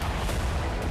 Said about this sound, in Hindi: जोरदार ब्लास्ट के साथ बारूद से सना आग का गुबार आसमान में उठता दिखाई दिया।